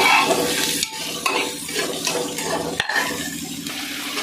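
Soya chunks and chana dal frying in a pan while being stirred, with steady sizzling throughout and repeated scraping and clinking of the spoon against the pan, close and loud, no talk.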